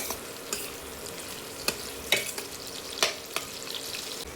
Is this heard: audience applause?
no